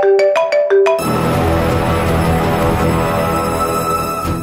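A mobile phone rings with an incoming call on a Telugu TV serial, a short electronic ringtone pattern of repeated tones followed by a louder, fuller music-like ring that plays on steadily.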